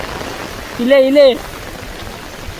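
Heavy rain falls outdoors on a fishing trip, a steady broadband hiss running the whole time while a man briefly calls out over it.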